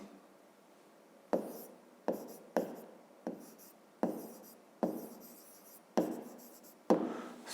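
A pen writing numbers by hand for a fifth-grade maths exercise on prime and composite numbers: about eight short, close scratchy strokes in an irregular rhythm, with quiet gaps between them and no talking.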